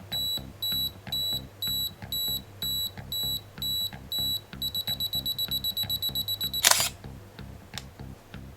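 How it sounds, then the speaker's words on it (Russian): Canon EOS 350D self-timer counting down with steady evenly spaced beeps that speed into a rapid burst before the shutter clicks, all close and alone with no voices. "Вот съемка по таймеру. Нажимаем. 10 секунд есть."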